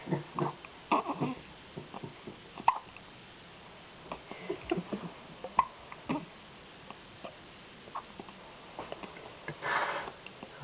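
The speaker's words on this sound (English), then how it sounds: "Little chorus of hiccups." Newborn twins hiccup in soft, irregular little bursts, many small quick catches overlapping over a quiet background, close and gentle, with one slightly louder breathy sound near the end.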